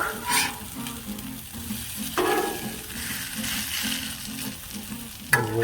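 Hash browns fry on a Blackstone griddle with a steady close sizzle and crackle, a few louder spatter bursts rising over the frying, no voices.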